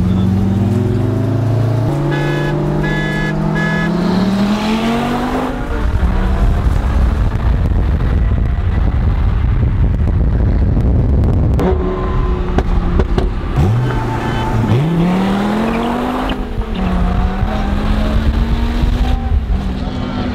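A Dodge Viper and a Chevrolet Corvette race from a 40 mph rolling start, engines roaring loud and close with rising revs, gear changes and heavy wind buffeting on the microphone throughout.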